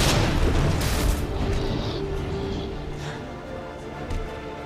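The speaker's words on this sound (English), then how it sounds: "Grenade out!" A grenade blast in Resident Evil 2, heard as a heavy, rumbling boom that fills the opening and then slowly fades over several seconds, with a smaller burst near the end.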